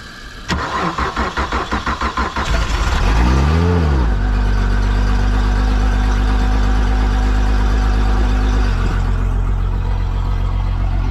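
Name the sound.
Honda outboard boat motor starting and running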